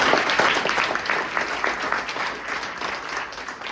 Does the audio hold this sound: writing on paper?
no